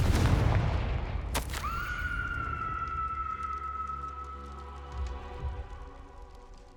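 A Confringo explosion spell cast in Hogwarts Legacy, a sharp blast followed by a sustained ringing magical whine that fades slowly over a low ambient rumble.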